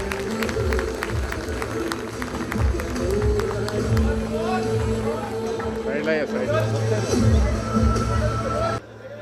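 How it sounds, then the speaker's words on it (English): An audience at a college moot court cultural prize-giving applauds steadily, a broad wash of clapping that carries through the whole stretch while someone talks over it on a microphone, then cuts off abruptly near the end. "Let's give them a huge round of applause."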